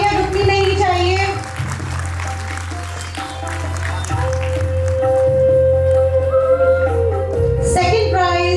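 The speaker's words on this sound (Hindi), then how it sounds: "Huge round of applause, everyone." An audience at a school annual function applauds during a prize-giving, with sustained clapping over background music while voices and someone speak over it.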